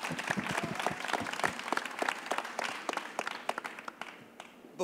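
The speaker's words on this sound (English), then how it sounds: "could you stand up and take your duly rewarded applause" Audience at an Art Basel Cities salon discussion on Buenos Aires applauds Patrick, with distinct individual claps forming a moderate round that gradually thins and fades.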